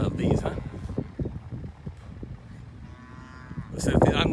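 Four-year-old F1 Brangus and F1 Braford cows moo loudly at a cattle sale, with several drawn-out calls rising over background chatter and crowd noise.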